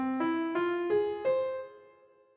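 Four clean, evenly spaced notes climb through the Dalic scale mode, scale 305, each struck crisply, with the final pitch left to ring and fade out on its own.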